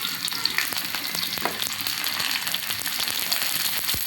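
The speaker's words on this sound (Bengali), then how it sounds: "এখন আমি ভালোভাবে মশলাটা একটু ভেজে নেব" Spice paste of cumin, ginger and garlic with chili powder frying in fish oil alongside mixed vegetables, a dense continuous crackling sizzle with scattered sharp pops and stirring, close and steady without talk.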